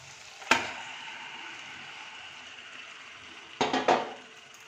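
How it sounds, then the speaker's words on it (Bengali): Marinated mutton sizzles steadily in hot spiced oil, with a sharp burst of spattering at the start and a cluster of clattering, sizzling bursts near the end. "আমি ম্যারিনেট করা মাংসটাকে দিয়ে দিচ্ছি।"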